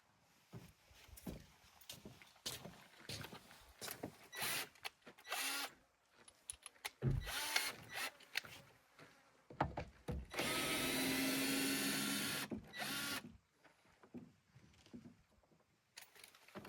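A screwdriver or power driver works open a fitting in a ranch setting. Close clattering handling noises lead into a sustained whir lasting a few seconds, then more scattered clicks and knocks.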